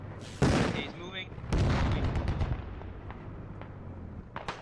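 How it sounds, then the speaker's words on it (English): A rocket fired in the military shooter game Squad: a sharp loud launch blast followed by a second heavy boom and a rumbling tail, with fainter distant shots trailing off afterward. "Rocket got fired out there."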